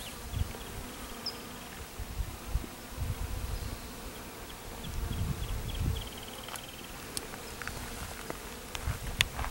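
Honeybees buzz in low, droning bursts that swell and fade, with a denser cluster of wingbeats near the middle. The sound is moderately close, steady in tone, and no one talks.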